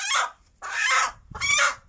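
Black Australorp hens, about five months old, give three loud close clucking calls in a row with short gaps between them, alone and with no one talking.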